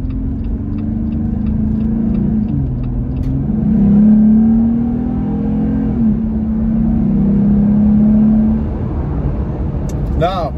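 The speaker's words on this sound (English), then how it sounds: "I'm going to get on the gas a little bit more and have a listen. Again, this is the S&B cold air intake." A Jeep Gladiator fitted with an S&B cold air intake revs and accelerates, its steady engine drone rising and falling in pitch over several seconds, heard fairly close with faint ticking, ending with a brief voice.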